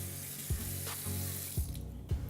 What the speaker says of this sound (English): first we're gonna get you to wash your hands